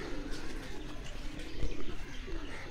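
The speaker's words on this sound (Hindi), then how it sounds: "ये हरे कबूतर है" Pigeons gathered on a house rooftop give soft cooing calls beneath a steady, busy background murmur, with the bird sounds blending in at moderate distance throughout and no talking.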